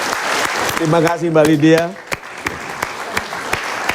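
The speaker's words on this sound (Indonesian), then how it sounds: "tepuk tangan sekali lagi" An audience at a live motivational talk show applauds, with a dense burst of clapping under a speaker's voice, then thinning into scattered single claps.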